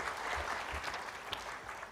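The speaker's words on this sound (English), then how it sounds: "may we also have a round of applause for the 75 flag bearer IPs" Faint, steady applause from a conference audience at an entrepreneurship and intellectual property conclave, a continuous wash of clapping lasting about two seconds.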